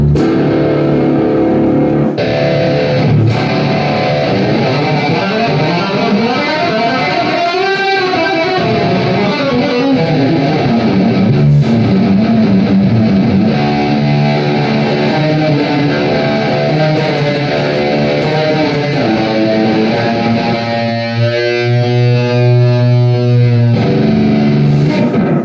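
LTD BB-600B electric guitar played with heavy distortion through a small 40-watt Spark amp, turned up fairly loud, with a continuous mix of chugging riffs, sliding notes and sustained chords.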